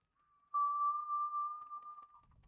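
A single long, steady whistled tone in the Atomfall video game, tuneless and held on one pitch for about two seconds, clear and fairly close against near silence, fading out at the end.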